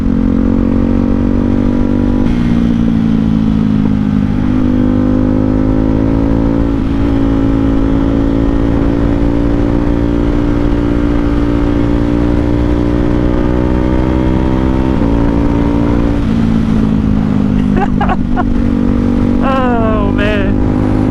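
A Ducati Hypermotard fitted with an Austin Racing exhaust rides along with a deep, loud, steady engine drone, rising and falling with throttle through gear changes, close to the rider. Talk breaks in near the end.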